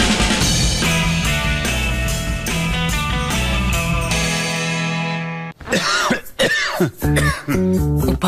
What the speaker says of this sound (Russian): Тебя мучает кашель.